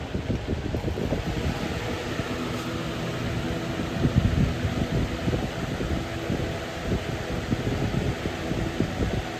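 An early-2000s Holmes HABF-25 box fan, freshly repainted and prone to vibration rattle, runs on high speed with a steady, full whooshing roar of moving air close by and no voices.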